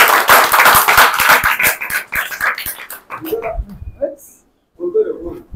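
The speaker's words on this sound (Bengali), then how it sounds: "হাততালি দাও সবাই।" A group of karate academy students claps hands together in sharp, rhythmic unison for about two seconds, loud and near, then voices and a dog's whimpering follow.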